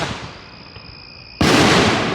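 A Fourth of July firework mortar launches with a sudden loud boom after a faint fizzing fuse hiss, followed by a sustained crackling burst, with no talking.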